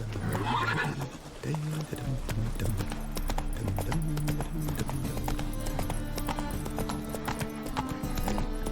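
Roach, a horse in The Witcher 3 video game, trotting with steady clip-clop hoofbeats and giving a whinny near the start, loud and close, under a man's speech.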